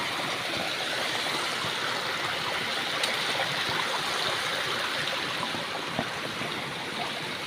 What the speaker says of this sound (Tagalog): Lakas ng tubig din.